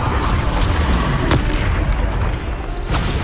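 A Bombarda explosion spell bursts in Hogwarts Legacy, a heavy booming blast with a sharp crack amid a loud, dense rumble of combat, followed by a second, lighter crack near the end.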